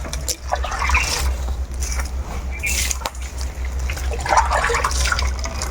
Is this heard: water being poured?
yes